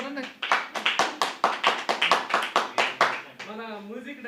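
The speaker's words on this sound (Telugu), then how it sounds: "చప్పట్లు కొట్టండి." Audience clapping at a church gift presentation, a steady run of close, loud hand claps that fades out near the end as a voice begins speaking.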